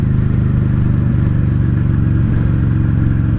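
A 1995 Honda Shadow VLX 600 (VT600CD) motorcycle engine while riding, a loud, steady, close low rumble that drones on without a break, with no talk over it.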